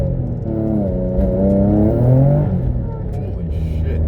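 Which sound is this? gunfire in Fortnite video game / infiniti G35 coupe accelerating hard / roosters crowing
infiniti G35 coupe accelerating hard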